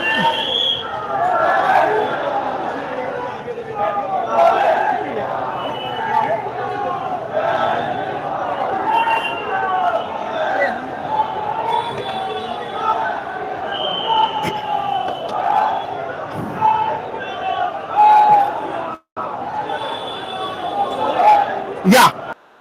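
A large political crowd outside, waiting for Mamata Banerjee, raises loud continuous shouting and chanting of the Jai Shri Ram slogan, a dense roar of voices sustained throughout with scattered louder cries.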